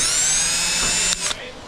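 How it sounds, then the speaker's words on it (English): A power drill with an 11/32 bit bores a hole in a Big Block 727 Torqueflite transmission part, a loud high whine that runs steadily then cuts off sharply with a brief rattle. "We'll drill a hole there with our 11/32 bit."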